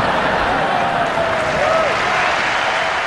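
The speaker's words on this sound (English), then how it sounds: "I think you all deserve a round of applause" Concert audience at a legends ball applauding steadily for the full stretch, a dense wash of clapping from a large crowd, with a voice talking over it.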